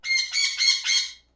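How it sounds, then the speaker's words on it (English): A flock of sun conure parrots in the tropical Umbar map of the strategy game Legends of Middle-Earth gives four harsh, shrill squawks in quick succession, loud and close, then falls silent. "This is the sound of Lulu yelling, and the bird flocks are sun conures"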